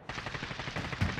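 Rapid automatic gunfire in Call of Duty: Modern Warfare, a fast burst of close, sharp shots in a dense rhythmic rattle with a heavier hit near the end.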